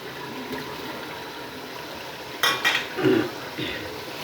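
Pumpkin pieces dropped into a pot of fried chicken for kaddu gosht: a quiet kitchen background, then a sudden clatter of utensil against pot followed by a brief wet sizzle and scraping, close by.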